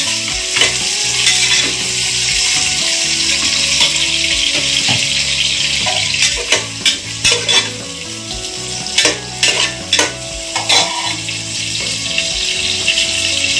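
Two finely chopped onions frying in oil until golden brown for a mushroom biryani: a loud, close sizzle with a low bubbling undertone, and sharp stirring scrapes clustered in the second half, with no one speaking.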